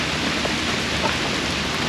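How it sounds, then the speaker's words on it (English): Continuing rainfall over a storm-tossed garden yard after 80 mph winds, an even, broadband hiss with a couple of faint drop ticks and no talking. "It's raining still, Simba."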